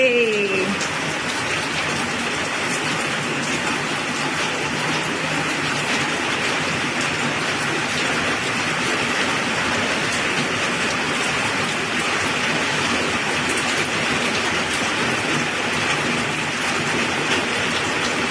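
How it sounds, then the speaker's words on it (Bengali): Steady, dense rain pours down without a break, a loud broadband hiss that holds level throughout, with no voices. "কি জোর বৃষ্টি হচ্ছে।"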